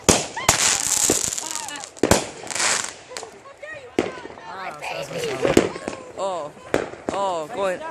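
Fourth of July fireworks finale at a 2014 festival, rapid overlapping bangs and crackling firecracker bursts, near and loud, with excited people talking and exclaiming throughout.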